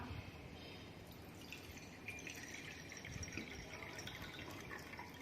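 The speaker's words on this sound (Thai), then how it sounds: "เราจะเทน้ำลงไปในภาชนะนะครับ" Water is poured steadily into a container for a classroom activity, giving a continuous soft splashing trickle at low level with no speech over it.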